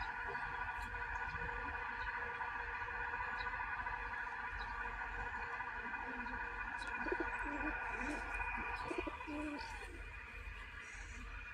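Pigeons coo softly nearby, low throaty calls repeating over a steady background hum, with no talking.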